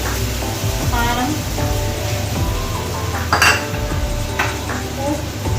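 Tomato puree with chili powder fries in a pan, with steady clinks of a utensil stirring against the metal under a voice.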